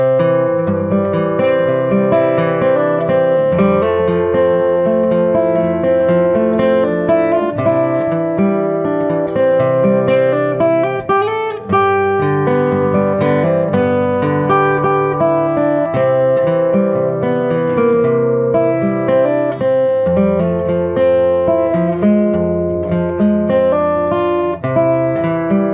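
Finger-picked acoustic guitar playing a steady arrangement of the hymn Jesus Walked This Lonesome Valley, with bass notes alternating under melody, clear and close, continuous with no voice.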